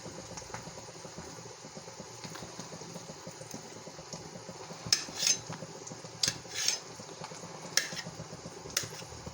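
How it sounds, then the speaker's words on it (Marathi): Potatoes are cut with a knife in a home kitchen, with a handful of sharp, scattered knocks on the board in the later part over a steady background hum. "तोपर्यंत आपण ह्या ठिकाणी बटाटे कट करून घेऊया"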